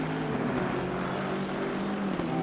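A racing car engine in a sim racing game at the Barcelona circuit, droning steadily and loudly as the car gets on the throttle, a continuous buzzing roar with no pauses.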